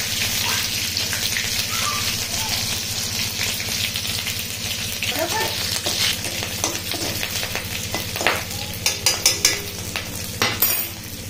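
Curry leaves and green chilies fry in hot oil with a steady spattering sizzle over a low kitchen hum, followed near the end by a few clinks and stirring knocks.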